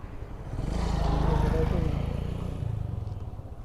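A Yamaha R15M motorcycle, Indian BS7 version with a liquid-cooled fuel-injected VVA engine, hums at a low, even idle that swells slightly and then eases back, close and moderately loud with no voices.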